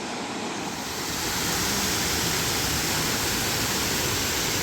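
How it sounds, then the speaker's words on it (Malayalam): Steady, dense rush of falling water filling the whole clip, loud and constant like a small cascade heard up close, with no voices. "ചെറിയൊരു വെള്ളച്ചാട്ടമാണ്"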